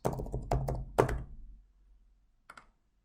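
Login details typed on a computer keyboard: a quick burst of close, clacky key presses in the first second and a half, then quiet, followed by two more light taps.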